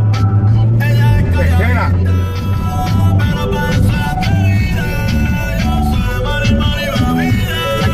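Audi TT-S Quattro turbo convertible pulling away and accelerating through the gears, a close engine hum rising and dropping at each shift, with someone talking over it in Spanish.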